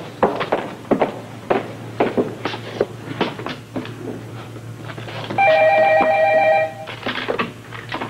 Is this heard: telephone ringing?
yes